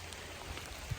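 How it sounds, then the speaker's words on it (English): Rain falls steadily on a backcountry trail in Michigan's Upper Peninsula on a cool, damp morning, a soft, even hiss with faint scattered patter and one low thump near the end, with no voices. "It's going to rain till about 11 o'clock"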